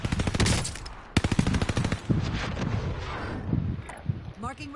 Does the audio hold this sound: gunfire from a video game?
yes